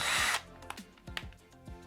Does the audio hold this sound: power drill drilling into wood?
yes